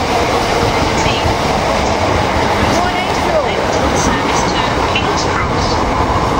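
A four-coach train rumbles steadily along the rails near Royston with a loud, constant roar, faint clattering and a brief squeal as it passes over crossover points.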